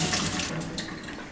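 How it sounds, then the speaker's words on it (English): Rinse water pours out into a sink while preparing Macedonian sarma cabbage rolls, a steady close splashing rush that carries on without a break. "you just pour the water out and get some more"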